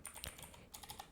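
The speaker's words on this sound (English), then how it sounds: "and project name I'm typing here" Quiet rapid keystrokes on a computer keyboard, a brief burst of soft clicking typing heard alone.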